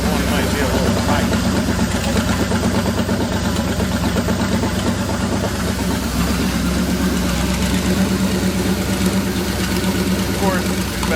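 A rebuilt Chevy 350 V8 in a 1966 Chevrolet C-10 pickup idles steadily and loudly from close by, with a continuous low rumble and faint valvetrain ticking that run the whole time without a break.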